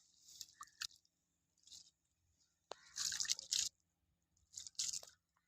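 Guava fruit being washed in water by hand, heard as brief intermittent splashes, squishes and drips in a quiet room with no talking.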